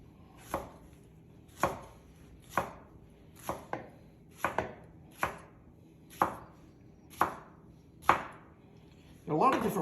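A knife slicing red pepper into thin strips on a cutting board, each stroke a crisp separate thud in a slow, steady rhythm, about nine chops spaced roughly a second apart, close and clear with no talking.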